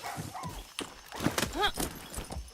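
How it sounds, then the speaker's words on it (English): Horse in the Far Cry 6 video game, a short neigh with faint hoof sounds amid game ambience, moderately loud and mixed with other noises. "There's a horse over here."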